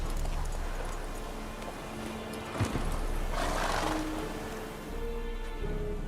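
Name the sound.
horse Roach galloping in video game The Witcher 3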